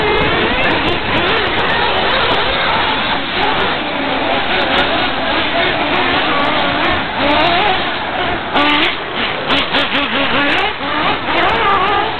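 A small OS 28XZ nitro engine in an OFNA Jammin X1-CRT RC buggy buzzes and revs almost without pause, a dense, loud high-pitched whine rising and falling, with voices and talk partly mixed in.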